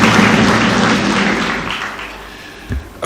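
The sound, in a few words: audience applause for the protocol team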